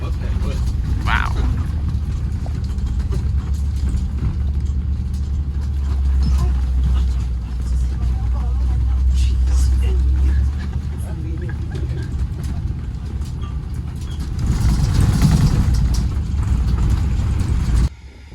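Tour vehicle driving along a bumpy, deep sand road to a slot canyon near Page, Arizona, with a continuous engine rumble and rattling jolts; people talk over the noise.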